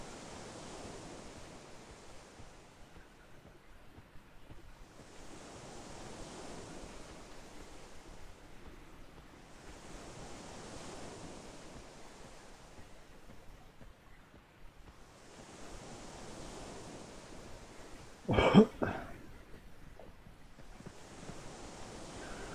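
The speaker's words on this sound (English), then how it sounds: "that water splashing up against the shore sound is problematic" Water from a lake or sea splashing against the shore of Oasis in the Project 1999 game, a steady looping wash of surf that swells and fades every few seconds, with a brief sharp click near the end.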